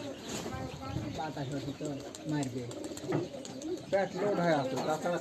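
Domestic pigeons cooing in a home loft, a steady layered murmur of soft throaty coos close by, with people talking throughout.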